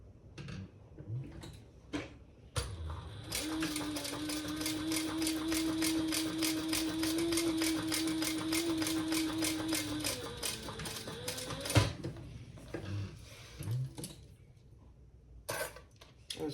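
A sewing machine stitches a row across a wallet's card slots, running steadily for several seconds as a close, even mechanical whir, with quiet handling clicks and taps before and after.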